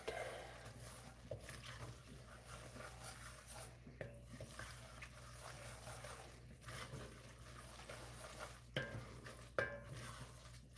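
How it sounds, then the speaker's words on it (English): A spoon stirs food in a pot, making intermittent scraping and clinking against the metal over a low steady hum, with some louder knocks near the end. "We'll stir it around."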